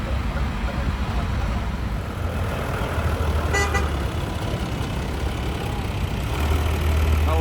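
Farm tractors arriving and parking at a farmers' protest in Spain: heavy diesel engines idle and rumble together, a horn toots briefly in the middle, and people talk throughout.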